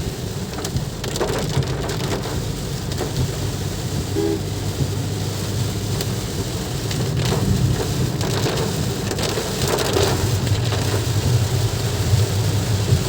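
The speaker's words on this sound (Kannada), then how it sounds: "ನೋಡಿರಿ ಇಲ್ಲಿ ಎಷ್ಟು ಫುಲ್ಲು ಜೋರು ಮಳೆ ಆಗೈತೆ ಅನ್ನೋದು." Heavy rain pours steadily and loudly throughout, a dense continuous roar of drops with a low rumble underneath and no voices.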